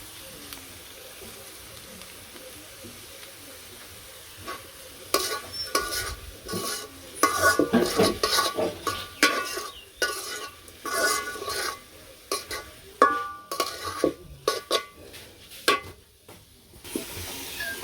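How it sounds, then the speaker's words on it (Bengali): Boiled yard-long beans stir-fried with magic masala in a village kitchen: a quiet low sizzle at first, then repeated scraping and clattering strokes of a spatula against the pan over continuous frying hiss, close and fairly loud. "তো এই যে আমার বরবটি ভাজা হয়ে গেছে"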